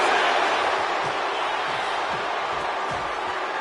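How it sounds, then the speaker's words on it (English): A capacity arena crowd roars steadily in the WWE 2K25 wrestling video game, a loud, unbroken wash of cheering with faint thuds underneath. "And do you hear this capacity crowd?"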